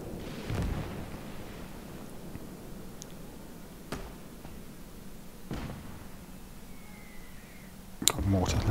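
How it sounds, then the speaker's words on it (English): Mortar shells burst in the Gates of Hell strategy game, several dull thuds spaced a few seconds apart over a low battlefield rumble, with the last impact sharper and louder. "Got mortar land right on his head."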